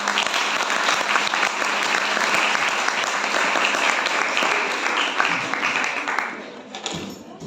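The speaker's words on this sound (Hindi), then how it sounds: "सभी के लिए जोरदार तालियां" An audience at a commemorative event gives loud, sustained applause, many hands clapping densely and steadily, then thinning out and stopping near the end, with no talking.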